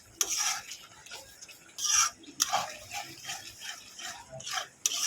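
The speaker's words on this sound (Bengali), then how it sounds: "ধনে গুঁড়ো মশলাটাকে ভালো করে কষিয়ে নেবে" Spice masala with coriander powder is stirred and scraped around a pan for a beef shahi korma, giving repeated close, fairly loud swishing and scraping strokes with no talking.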